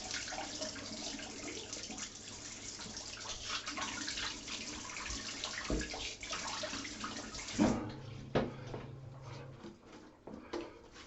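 Running tap water splashes as a face is rinsed after a traditional three-pass wet shave, a continuous close hiss that stops abruptly, followed by a few drips, knocks and handling sounds at the sink.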